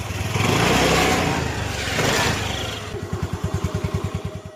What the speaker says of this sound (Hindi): उसके बाद चुड़ैल स्कूटर लेती है और वहाँ से चला कर ले जाती है